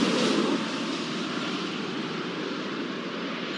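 Steady, loud broadband jet roar of an airplane taking off in the airport-management game Airport Madness 4, a continuous whoosh holding level throughout with no voices.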